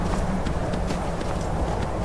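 Horse hooves clip-clop steadily in Skyrim, a continuous run of close, evenly paced hoofbeats over a dense game soundscape, with no talk.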